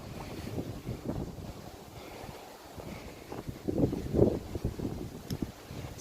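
Wind gusts across an outdoor archery range, buffeting the microphone with low rumbling bursts that rise and fall, swelling strongest past the middle and continuing without speech.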